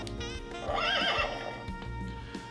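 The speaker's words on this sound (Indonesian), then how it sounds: "suara kuda lebih dari 10 variasi ya" A Toy Story Signature Collection Bullseye toy horse whinnies loudly and clearly, a single rising and falling electronic neigh with a hoof-clop rhythm underneath, close to the microphone.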